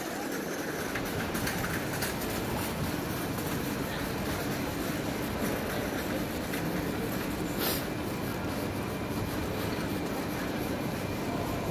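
Trains at a busy railway station in Frankfurt, Germany: a steady wash of rail and station noise with faint rumbling and clatter that runs unbroken throughout.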